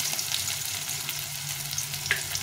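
Garlic and onion fry in hot oil with a steady, close, crackling sizzle, small pops flickering through the even hiss.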